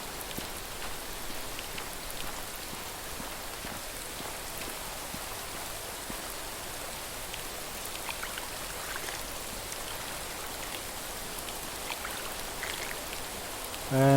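Continuous heavy rainfall in the game Rising World, a thick even wash of drops pattering on surfaces, constant in loudness from start to finish with no talking.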